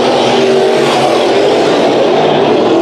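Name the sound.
race cars racing at Bakersfield Speedway heat race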